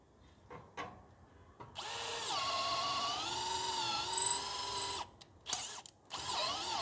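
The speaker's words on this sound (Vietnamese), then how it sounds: "khi mà nó khoan mũi 10 ly đụng vô chất liệu gỗ hơi cứng thì nó sẽ hơi như vậy" Bosch GSB 185-LI cordless drill driving a 10 mm bit into hard wood: a sustained loud whine with a dip in pitch as it bites, then short stops and a brief restart.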